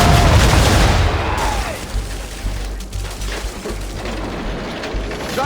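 Ship cannons on a sailing warship in Assassin's Creed 3 fire in a heavy broadside, deep booming blasts and rumbling that start loud and then roll on with lower thuds and creaking.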